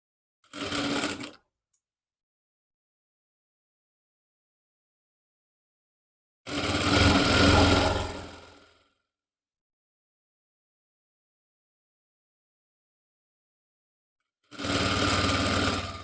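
A sewing machine stitches a suit sleeve cuff in three separate bursts of rapid mechanical whirring, close and loud, with long silent pauses between runs.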